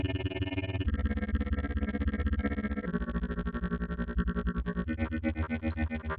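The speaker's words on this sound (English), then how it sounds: "So now we have the grains, and they're overlapping when they play back. So you can hear the two grains." An Elektron Tonverk's Grainer granular engine plays overlapping grains as a dense, distorted buzzing texture, steady and loud, with a shift in pitch partway through and a faster pulsing flutter toward the end, with no voices.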